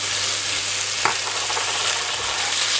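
Minced pork stir-fries with a splash of water for holy basil glass noodles. A close, continuous sizzle fills the clip, with one brief knock of a utensil partway through.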